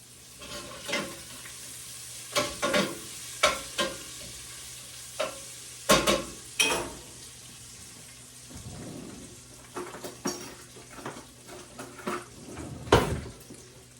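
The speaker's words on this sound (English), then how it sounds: "let me stir my bacon" Bacon fries low in a pan for vegetable soup, giving a soft steady sizzle broken by scattered scraping and clinking stirs of a utensil against the pan, close and fairly quiet with no talking.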